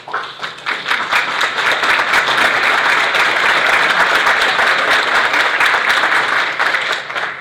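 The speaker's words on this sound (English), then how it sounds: "if they could stand up, we could give them a round of applause" Audience at a business appreciation event gives a sustained round of applause for a group from Honda, dense steady clapping close by that builds quickly and holds.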